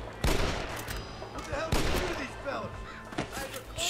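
Gunfire in the video game Red Dead Redemption cracks out in sharp, loud shots, a couple of heavy reports followed by scattered smaller pops, with game sounds and voices in the mix.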